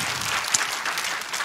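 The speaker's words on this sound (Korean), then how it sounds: "박수하겠습니다." Steady applause from a large congregation at a joint Sunday worship service in Gwanghwamun, loud and dense clapping filling the space without a break, with no voices on top.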